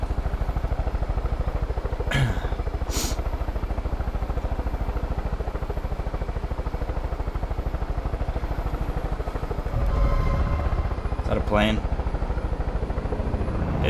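A plane engine drones steadily in the video game Far Cry 5, a constant low throbbing hum that swells louder near the end, with brief whooshing passes over it.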